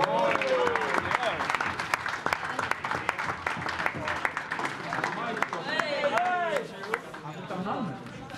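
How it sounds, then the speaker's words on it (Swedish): Scattered applause for a winning team at a Swedish team activity, moderately loud clapping with lively chatter and voices over it, tapering slightly toward the end. "Så en applåd till dem."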